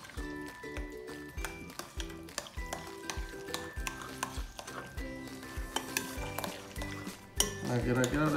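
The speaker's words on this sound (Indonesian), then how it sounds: "Kita aduk sampai bercampur rata." A fish and water mixture for pempek dough is stirred in a bowl with a utensil, giving steady clinking and scraping strokes throughout, close up, with music playing underneath.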